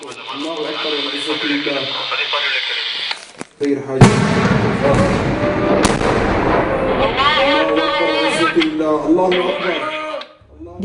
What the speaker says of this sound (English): tank blast at 4 p.m. Sunday signalled the launch of a coordinated attack on 7 checkpoints surrounding Idlib city